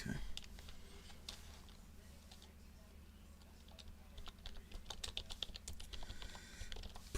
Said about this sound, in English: Pardon the loud clicking noises. That's just me typing some stuff off of this sheet.